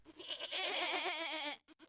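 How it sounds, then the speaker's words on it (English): Goats crowded on a bus, one long loud wavering bleat followed by shorter bleats, close and clear with no speech. "a great big bleating cacophony of goats"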